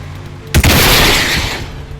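A tank cannon fires in a multicrew tank combat video game: one sudden loud boom with a long rumbling, crackling tail that slowly fades, and no voices.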